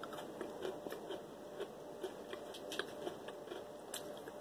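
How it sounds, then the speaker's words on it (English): Hershey's Cookies 'n' Creme candy being bitten and crunched, a steady run of small crisp crunches close to the mic against a faint background hum, with no talking. "Crunch."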